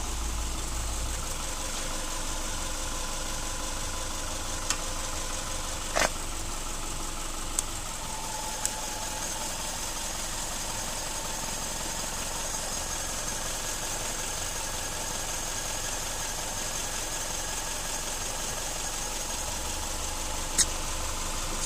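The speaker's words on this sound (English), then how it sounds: "same time you hear the alternator go under strain, and this thing just takes a charge" A car engine idles steadily at close range while it charges an ultracapacitor power bank through jumper cables, a constant mid-range hum with a few faint clicks scattered throughout.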